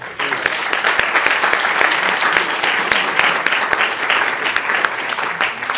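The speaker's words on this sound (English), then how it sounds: "give yourself a big round of applause again" A packed room at a hackathon's final demo session breaks into loud, continuous applause, dense clapping holding steady for nearly six seconds with a few sharper individual claps standing out.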